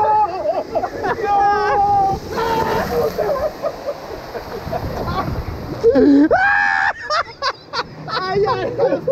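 Water rushing and splashing from a waterfall on the Rio Loco river rapids ride at SeaWorld San Antonio, under excited shouting and talking from riders in the raft.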